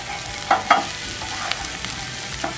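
Soft onions and oregano sizzle gently in a pan for a homemade tomato sauce, a steady low frying hiss with a couple of sharper stirring scrapes near the start and no talking.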